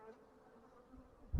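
Honey bees buzz at an open hive in a steady, close, low drone lasting just over a second, ending in a brief heavier thump.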